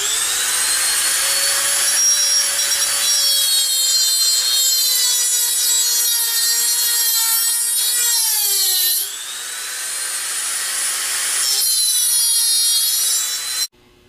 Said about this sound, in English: So we have to scribe a line in the width of the side of the bearing.